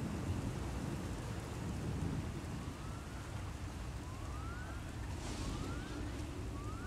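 Thunderstorm ambience from Star Wars: The Old Republic, with steady heavy rain and low rolling thunder running throughout, plus faint rising whistling tones in the background.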